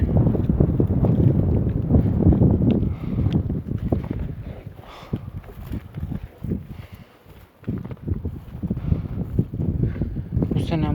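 Gusty wind blows outdoors, rumbling against the microphone in surges that ease into short lulls before picking up again.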